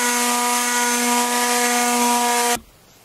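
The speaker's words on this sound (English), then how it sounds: "my next steps are sand this down" A power sander runs on wood for a crosscut and ripping table saw sled, a loud steady whine with a strong tonal hum that cuts off abruptly near the end.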